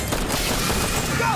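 Dense gunfire from an Xbox war shooter, a loud continuous fusillade of shots and blasts packed into a short burst, with shouted voices mixed into the chaos.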